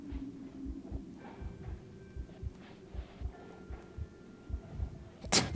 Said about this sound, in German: Und das Herzschlagen geht aber wieder los.